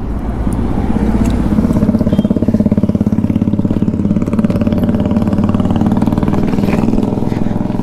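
A Yamaha motorcycle engine idles steadily and loudly up close, a constant low throbbing drone with a fast regular pulse that holds through the whole stretch, with no voices over it.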